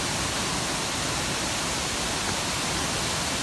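Dense, constant roar of Shifen Waterfall in Taiwan fills the entire clip, loud and unbroken with no other sounds.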